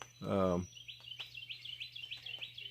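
Birds outdoors chirp in a quick run of high, repeated tweets that follow a short burst of a person's voice, fairly faint against a low steady hum.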